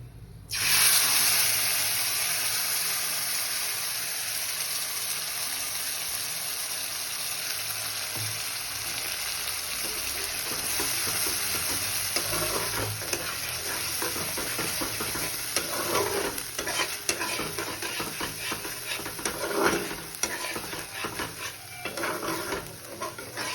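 Fried spice paste sizzles steadily in a pan for a butter matar paneer dish, with a continuous hiss and irregular scraping stirs growing busier toward the end, close and fairly loud, no voices.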